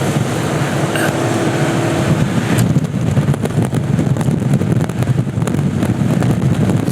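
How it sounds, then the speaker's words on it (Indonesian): Strong wind gusting across the microphone at an outdoor wet-weather bicycle race: steady loud rushing roar with buffeting low rumble throughout, no voices. "Angin yang bertiup dari arah timur ke barat, hembusannya sangat kuat."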